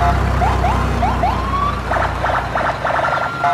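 A toy military police car siren chirps in rising yelps, then slides into a sustained wail and ends with a rapid pulsing warble, loud and close, electronic and tinny.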